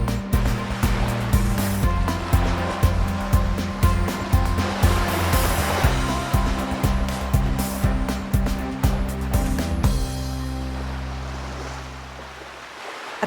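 Ocean surf breaking on a rocky Galapagos beach, a loud, continuous roar with rhythmic surges of waves, close by, easing off and softening toward the end.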